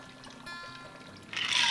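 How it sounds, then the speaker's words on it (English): A pumpkin spice martini poured from a shaker into a glass, a short splashing pour rising near the end of a quiet moment. "Time to pour in our cocktail."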